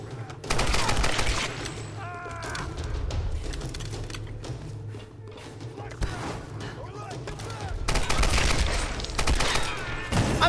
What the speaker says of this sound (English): multiple shots from a machine gun didn't kill him